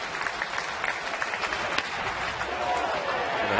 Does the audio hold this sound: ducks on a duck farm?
no